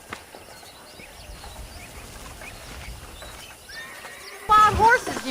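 Wild horses in the Red Dead Redemption video game: soft hoof thuds and ambient rustle under a faint voice, ending with a loud, near whinny that rises and wavers over the last second.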